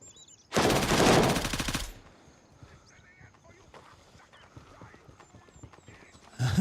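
Gunfire in the tactical shooter Gray Zone Warfare: a dense, loud automatic burst lasting just over a second, dropping to quiet ambient noise, then a fresh loud burst starting at the very end.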